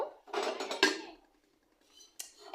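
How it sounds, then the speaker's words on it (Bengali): A pan lid lifted off while chitoi pitha cooks, a burst of metallic clattering and scraping up close, then near-silence with a faint clink and a brief sharp knock at the end. "এখন আমি ঢাকনাটা সরিয়ে দিব"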